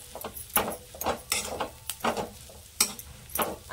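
Matar kachori filling of green peas is stirred and sautéed in a pan to dry out its moisture, with repeated scraping spoon strokes and a soft sizzle running close and steady.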